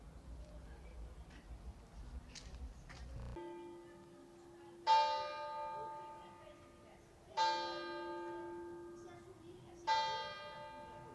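A church bell tolls three times, each strike ringing out loud and clear before a long fading hum, about two and a half seconds apart, after a stretch of quiet street ambience.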